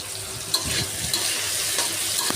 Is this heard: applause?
no